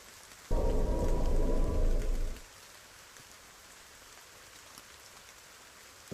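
Rain in the video game Kamilia comes as a loud, dense burst of about two seconds, then cuts off abruptly to near quiet.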